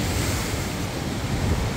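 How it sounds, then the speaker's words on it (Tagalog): Large ocean waves crash and surge along the rocky coast of Itbayat, Batanes, a steady, loud broadband roar with wind buffeting the microphone throughout. "Nakakalula yung sobrang malaking alon"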